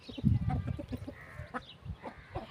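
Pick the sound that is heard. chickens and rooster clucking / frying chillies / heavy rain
chickens and rooster clucking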